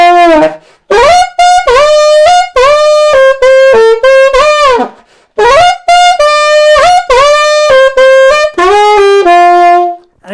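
Alto saxophone plays a riff, loud and close, with bright punchy repeated phrases and short breaks, played alone.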